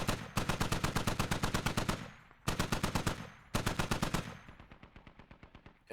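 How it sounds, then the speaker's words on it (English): A DShK heavy machine gun fires in the military game Squad: three long, rapid bursts of sharp, evenly spaced shots, each cut off by a short pause, loud and close. "And they're shooting that Dishka very accurately as well."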